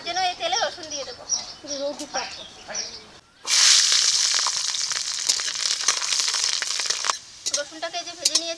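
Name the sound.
garlic frying in oil before adding kochur loti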